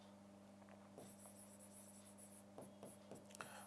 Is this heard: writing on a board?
yes